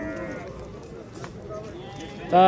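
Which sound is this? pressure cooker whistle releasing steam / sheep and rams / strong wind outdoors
sheep and rams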